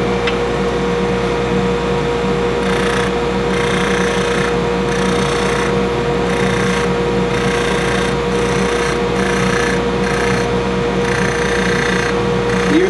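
A carbide tool cuts into a metal ring for a wedding band spinning on a woodturning lathe, making a continuous steady whine and hum with a faint pulsing rhythm throughout and no voices.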